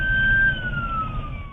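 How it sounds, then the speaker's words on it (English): A police siren wails steadily, its tone sliding slowly downward, loud and close over a low engine rumble. "with sirens blaring"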